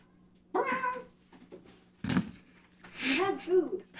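A pet cat meows a few times, short drawn-out cries close by, with a person talking nearby between them.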